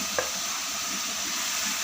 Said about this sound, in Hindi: ये फ्राई की हुई चिकन डाल देंगे